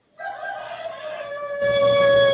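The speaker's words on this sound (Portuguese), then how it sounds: "Eu tô adorando o galo cantando atrás de você" A rooster crows in one long, loud, sustained call that rises in strength toward the end, close by and outdoors, with no talk over it.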